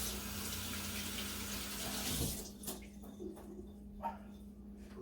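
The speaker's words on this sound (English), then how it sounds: "give me 1 second to rinse my hands off" Water from a kitchen tap runs steadily while hands are rinsed during meatball preparation, a broad close splashing hiss that cuts off abruptly about halfway, leaving faint drips and small clatters in a quiet room.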